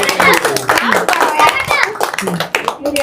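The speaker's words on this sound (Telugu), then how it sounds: "చప్పట్లు కొట్టండి" People, including children, clap their hands in quick irregular bursts indoors at a family homecoming while voices chatter and talk loudly over the claps.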